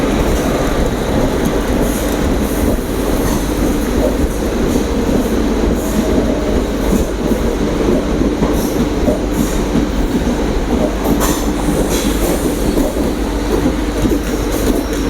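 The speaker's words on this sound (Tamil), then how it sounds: "அங்கே வர ட்ரெயின் தாங்க கோயம்புத்தூர் மதுரை இன்டர்சிட்டி எக்ஸ்பிரஸ்." Coimbatore-Madurai Intercity Express train passing at close range, a loud continuous rumble with rhythmic clickety-clack of wheels over rail joints throughout.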